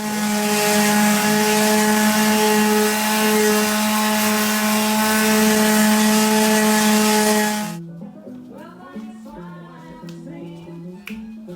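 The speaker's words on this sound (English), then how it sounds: "let's go ahead and sand this gunk and then lay down the rest of" A power sander strips gunk from a salvaged-material floor in a she shed, giving a loud, steady motor drone for nearly eight seconds before cutting off, leaving quieter scattered knocks and clatter.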